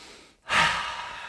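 A single deep breath during a guided grounding meditation: a short pause, then a strong, airy exhale like a sigh that rises quickly and slowly fades, close to the microphone with no speech.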